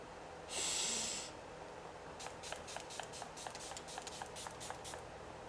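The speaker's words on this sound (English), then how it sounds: "Don't inhale the spray." One short hiss of hairspray bursts out, then quick, soft sniffs and clicks follow in an otherwise quiet room.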